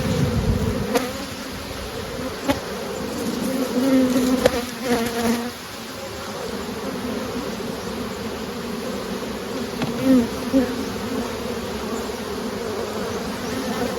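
Honey bees and drones buzz busily around a hive frame heavy with fresh nectar in a small swarm colony, a dense continuous hum close by with occasional louder passes of individual bees and faint handling clicks.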